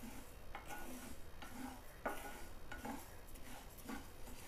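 Chugur dal is dry-roasted in a pan over a medium flame, with a spoon scraping and clinking against the pan in regular strokes about every second under a faint background hiss.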